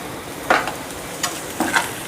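A few short bursts of crackling sizzle as coarsely crushed peanuts drop into a hot pan, three brief hits in a quiet kitchen.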